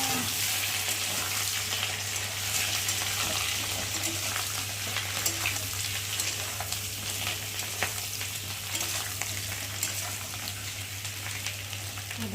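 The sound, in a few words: parboiled potatoes frying in oil with bay leaf and panch phoron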